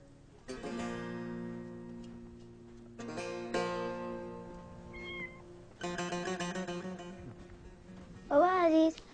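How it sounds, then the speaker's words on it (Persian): A cat meows in a drawn-out, wavering cry near the end, following stretches of sustained tonal sounds. "من صدای گربه شنیدم"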